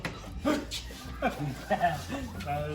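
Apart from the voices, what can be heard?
chihuahua dog barking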